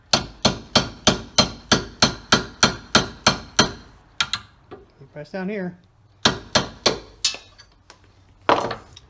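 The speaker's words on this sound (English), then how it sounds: "Now I just started these in with a hammer, just get them going" Metal hammer taps rhythmically driving hinge pins into a Plymouth Barracuda door hinge held in a vise, about a dozen sharp close strikes, a pause with brief talk and a squeaky sound, then more taps.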